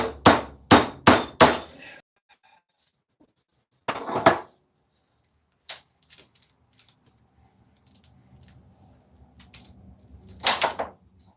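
Several sharp hammer blows strike a knife and chisel while a wooden spoon is carved: a fast cluster of four loud knocks, then a few scattered, quieter taps and thuds spread apart in a quiet room.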